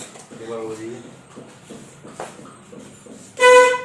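Someone talks quietly, then a car horn gives one short, loud honk close by at the end.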